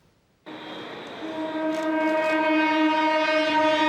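A special escort train pulling into Taichung railway station sounds a long, loud horn blast that starts abruptly and holds steady, rich and sustained, with no talking.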